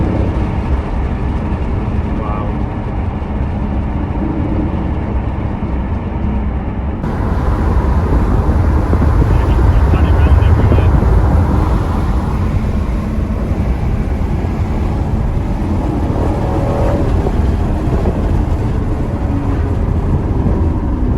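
Aston Martin F1 safety car driven on the road: a loud, continuous engine roar heard from inside the car, swelling to a stronger, brighter drone partway through and holding steady without talk.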